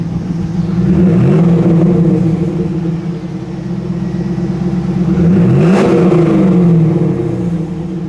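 A 2001 Pontiac Trans Am WS6 V8 revs up close and loud, engine rising in pitch to a peak and falling back over a steady idle rumble, with no talking.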